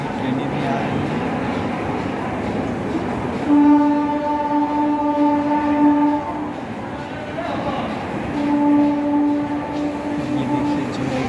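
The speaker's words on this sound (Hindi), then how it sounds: "यहाँ पे जो है कि ट्रेनें भी आ रही हैं।" Trains pull into Varanasi railway station amid a busy platform din of crowd chatter, with two long, steady horn blasts sounding a few seconds apart over the hum.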